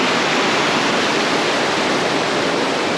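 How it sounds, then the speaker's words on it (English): Loud, dense roar of fast-flowing water pouring down Mae Ya waterfall in Chiang Mai, a constant broadband rush with no pauses, heard close and alone. "look at the speed of that water going down there"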